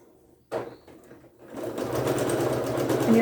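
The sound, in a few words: sewing machine stitching quilt triangle squares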